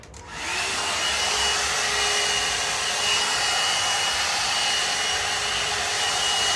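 A hair dryer blows hair dry in a home self-care routine, a steady, loud, unbroken whoosh that starts after a brief moment and runs alone without talk.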